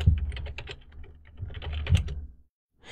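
Someone types a command on a computer keyboard, with a quick run of close, crisp key clicks in two clusters that ends in a brief silence.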